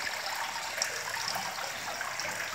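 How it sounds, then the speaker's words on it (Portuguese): Water trickles steadily over a small homemade cascade into a fish pond, a continuous close bright splashing with no talk. "Cascatinha que eu fiz aqui, pessoal, ó."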